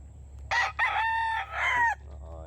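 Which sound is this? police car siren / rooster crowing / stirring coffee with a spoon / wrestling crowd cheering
rooster crowing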